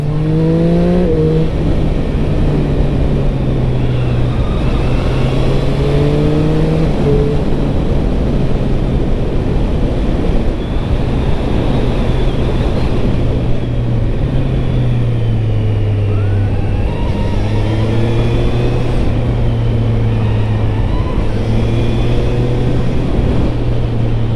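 A three-cylinder motorcycle pulls hard along a winding road, its engine note rising and falling steadily through repeated accelerations, loud and continuous with strong wind rush throughout.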